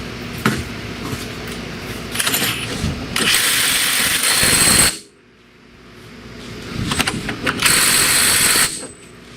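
A small impact wrench working on Jeep Liberty wheel hub bolts, loud rattling bursts in two runs of about three seconds each, separated by a short quiet gap and lighter mechanical clatter.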